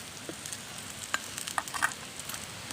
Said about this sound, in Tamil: நல்லா வதக்கி விடணும்.